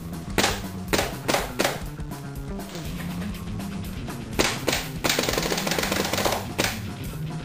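A Tactical Ion paintball marker firing rapidly with its hopper running, loud bursts of quick popping shots with brief pauses between strings, close up.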